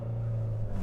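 Engine of a 2021 Nissan Sentra SR with a six-speed manual revving for a launch, a steady loud close hum held for under a second.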